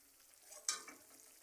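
Vegetables such as potato and cauliflower drop into fried spices in a pan for a vegetarian cauliflower, potato and paneer curry. A soft stir is followed by a sudden, brief sizzle that quickly fades, faint and close.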